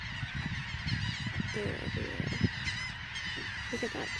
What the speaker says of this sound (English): Covered in birds.